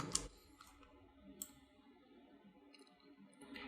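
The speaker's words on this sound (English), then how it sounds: "place it over here by hitting arrow key on the keyboard" Sparse, faint key clicks from arrow keys pressed on a computer keyboard, a few isolated taps spread across a quiet stretch with no talking.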